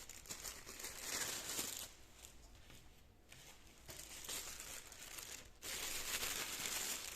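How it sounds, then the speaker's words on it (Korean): Plastic vinyl gloves being pulled on before shaping triangle kimbap: steady, close crinkling and rustling of thin plastic over several seconds, with brief dips and a louder burst near the end and no clear talking. "비닐 장갑을 끼고"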